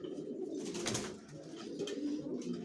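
Racer pigeons kept in a cage coo softly and continuously, a low murmuring flock sound close by with faint rustling, no talking.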